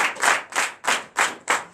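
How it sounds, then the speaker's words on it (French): Rhythmic clapping from a church congregation at morning prayer, five loud, evenly spaced claps from many hands in unison, close and clear with no talk over them. "Pourquoi ne pas rester des acclamations?"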